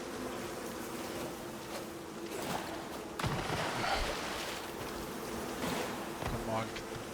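A swarm of bees buzzes around a beehive in the survival video game Icarus, a close, continuous drone with a few louder bursts and brief movement sounds.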